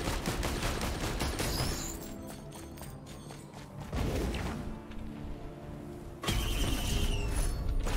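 Rapid bursts of exploding firework missiles in the Risk of Rain 2 video game, dense crackling blasts that fade midway and then return loudly over steady game sounds.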